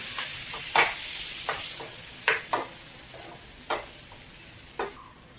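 Mutton stir-fried into roasted masala for a dry mutton dish, with a hissing fry bed broken by sharp scraping and stirring strokes about every half second to second, close and clear, with no talking.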